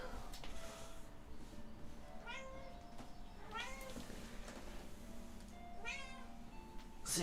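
A pet cat named Munchie gives three drawn-out meows spread over several seconds, fairly close but soft, against a quiet room hiss with a few light clicks.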